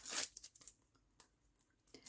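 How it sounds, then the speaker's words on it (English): Backing being peeled off adhesive craft foam, a brief close ripping tear at the start followed by a few faint crinkles and a final short tear, quiet with no talking. "Peel the backing off."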